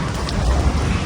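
Heavy rain pours down outdoors in a dense, loud, continuous roar with a deep rumbling undertone and no pauses.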